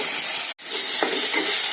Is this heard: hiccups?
no